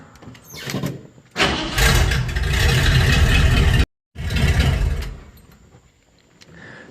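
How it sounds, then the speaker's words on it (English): A Jeep CJ7 engine is cranked and started after an oil change. It catches and runs loudly close by, drops out for a split second, then roars again before settling and fading to a quieter idle. "get into the Jeep and crank it up and let it circulate some oil"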